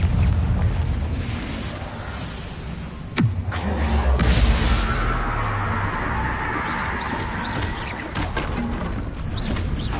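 Fiery Confringo spell blasts in Hogwarts Legacy, a sharp booming burst near three seconds followed by a rumbling roar and continued crackling combat noise throughout.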